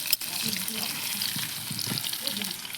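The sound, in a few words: potatoes frying in oil in a wok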